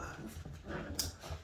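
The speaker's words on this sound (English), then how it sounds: "Most of that growling is Tinker." Puppies make quiet, close growls and whimpering grumbles in short uneven bursts, fairly faint overall.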